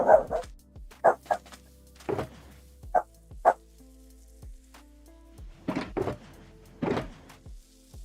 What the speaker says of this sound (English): Puppy noises.